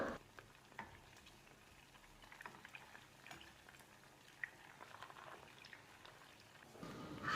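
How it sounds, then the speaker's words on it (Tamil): Chicken pieces frying in oil, a faint steady sizzle with soft bubbling and occasional small pops, close by and without talk. "ஒரு பக்கம் கொஞ்சம் ஃப்ரை ஆகி வந்தாக்கலாம் நம்ம இன்னொரு பக்கம் திருப்பி போட்டுக்கலாம்"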